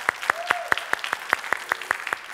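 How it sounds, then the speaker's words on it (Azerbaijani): A studio audience at a talk show claps in an even rhythm, with sharp, regularly spaced claps that stay moderately loud for a couple of seconds. "alqışlayaq."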